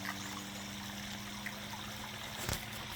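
Water trickles quietly from a small waterfall into a koi pond, a faint, steady splash over a low hum, with one brief knock near the end.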